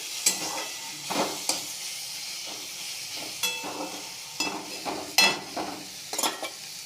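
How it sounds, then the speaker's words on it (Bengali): Fried onion, garlic and tomato are stirred in a pan for a cabbage paste dish, with intermittent scraping strokes of a spoon over a soft background sizzle. "নেড়ে দেবো ভালো করে।"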